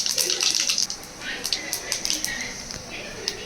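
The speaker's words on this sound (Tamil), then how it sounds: "சோம்பு பொரிஞ்சிருச்சு" Fennel seeds splutter and crackle in hot oil already popping with mustard seeds, cooked for a crab fry. Dense bursts of sharp pops come first, then thin to scattered crackles.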